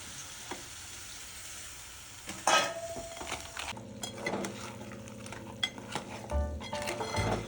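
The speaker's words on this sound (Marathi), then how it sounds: "त्यानंतर आपण चिंबोरी टाकून घेऊ आणि ते पण परतळून घेऊ." Crabs sautéed in a pan with onion-garlic masala: a soft sizzle, then a sudden clatter as they go in, followed by stirring scrapes and utensil clinks over continued frying.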